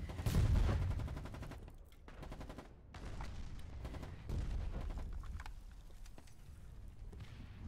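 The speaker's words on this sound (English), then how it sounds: "Artillery strike let up" Artillery strike in the Foxhole war game, with heavy low booms and rumbling blasts over scattered gunfire, loudest near the start and again midway, continuous battle noise throughout.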